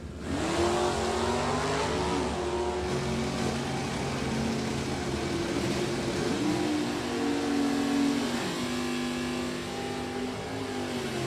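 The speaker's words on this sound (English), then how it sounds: "Corey Griffith's third gen Camaro, the I-Stock automatic left side, E-Stock automatic, the 1970 Duster, Mike Rook at the wheel." Drag racing stock cars, a third-generation Chevrolet Camaro and a 1970 Plymouth Duster with automatic transmissions, launching at a strip; loud sustained engine roar rising through gears, steady and close, without talk.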